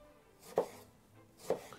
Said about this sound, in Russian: Нарезаю лимон тонкими пластиночками.